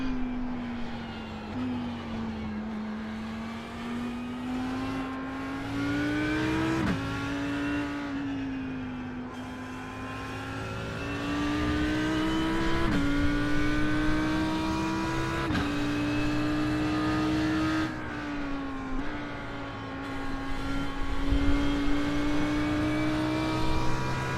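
Race car engine in the iRacing sim, a loud sustained high whine that repeatedly climbs in pitch and drops sharply at each gear shift, running continuously without pause.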